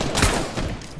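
Gunfire from a Fortnite match crackles in a dense, loud burst of overlapping shots and reports, close and harsh, filling the whole second.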